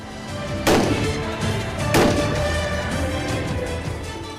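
Two sharp, loud gunshots about a second apart ring out at an Indian Army commando training shooting range, each leaving a brief echo over steady background noise.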